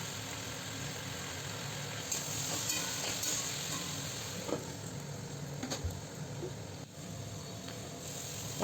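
Vegetarian ash gourd curry sautéing in a pan, a soft continuous sizzle with occasional scraping stirs, faint and steady without talk.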